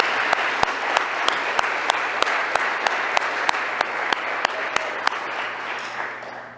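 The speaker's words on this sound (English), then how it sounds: "Please join me first in a round of applause for all our honorees beside me this morning." Loud, steady audience applause for honorees at a morning military and career signing day ceremony, close and continuous, with faint regular clicks ticking through it.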